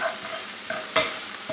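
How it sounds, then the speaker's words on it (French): Shallots sautéing in olive oil over medium heat in a pan, with a steady close sizzle broken by a few scraping stir strokes, including one louder scrape near the middle. "Je vais revenir le tout quelques minutes sur feu moyen."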